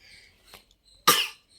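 A young child gives one sharp, loud cough close to the microphone, preceded by softer breathy throat sounds in a quiet room.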